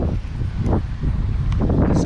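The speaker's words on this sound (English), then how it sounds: "I think it'll still hear a bunch of wind because it's pretty windy." Heavy wind buffeting a GoPro microphone outdoors while fishing, a constant low rumbling roar with gusty surges throughout and no voices.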